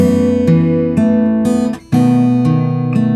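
Fingerstyle acoustic guitar plays the bridge of a song in an easy beginner arrangement, clear plucked notes and arpeggios ringing alone at close range, with a brief pause near the middle.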